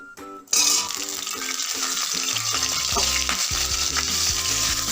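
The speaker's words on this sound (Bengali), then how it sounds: "তেলটা গরম হয়ে গেছে, এবার এর মধ্যে ধুয়ে রাখা ফুলকপিগুলো দিয়ে দেব।" Washed cauliflower pieces drop into hot oil for Bengali pakora, bursting into a sudden loud, crackling sizzle that stays steady, with clinking stirring of a utensil against the pan close by and no speech.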